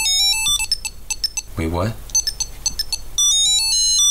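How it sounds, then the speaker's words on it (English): A phone rings with a bright melodic ringtone set off by a Tile tracker, with repeated electronic tone patterns before and after a brief spoken exclamation. "And also use your tile to make your phone ring."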